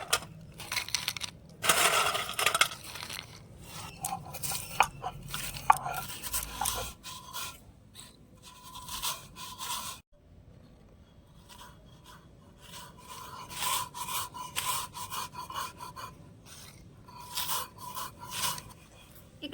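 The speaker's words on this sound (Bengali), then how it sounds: "এবার আমি বিস্কুটগুলোকে গুঁড়ো করে নেব" Biscuits are crushed on a stone grinding slab with a stone roller, giving repeated gritty scraping and grinding strokes at close range. The strokes come in uneven bursts with a brief pause midway and no talking.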